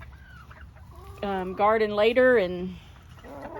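Backyard garden chickens cluck and squawk in a short burst of loud, pitched calls close by, with a person speaking briefly before and after and low outdoor background noise.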